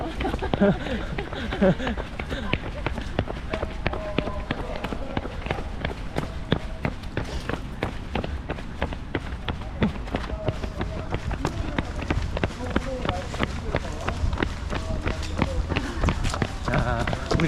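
A child's quick, steady running footsteps pound along at an even rhythm for a long stretch during a 10 km marathon, with breathing and voices in the background.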